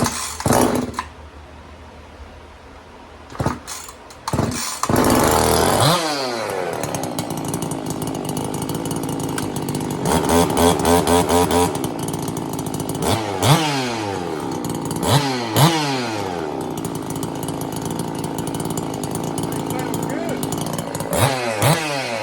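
A Husqvarna 346 chainsaw, freshly built as a conversion, is pulled over several times, then fires and runs, its two-stroke engine revving up and down loudly and close with sharp throttle blips throughout.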